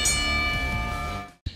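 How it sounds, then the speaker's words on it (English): A single bell strike rings out in a wrestling show's advertisement, its steady tone sustaining briefly before fading and cutting off. "Ring the bell."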